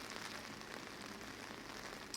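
Heavy rain falls steadily at the roadside of Highway 6 in Caledonia, a dense, even hiss of drops on the surface that holds at full strength throughout with no talk.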